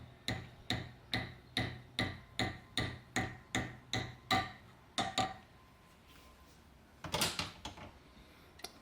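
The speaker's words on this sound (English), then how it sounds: "I'm going to tap it with a hammer" Hammer tapping a Suspension101 Gobbler Pro suspension part into place on a Yamaha Ténéré 700 motorcycle: a steady run of about a dozen sharp metallic strikes, a brief pause, then a louder clattering burst of knocks, all close by.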